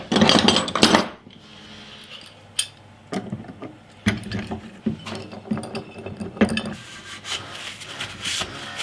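Ratchet clamp tightened on a guitar body built from fence wood, a close burst of rapid clicking ratcheting followed by a series of sharp clicks and creaks, with no talk.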